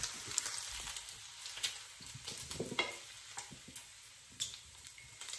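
Shrimp sizzle and crackle in hot pork fat, with irregular pops and spatters over a steady hiss, close by.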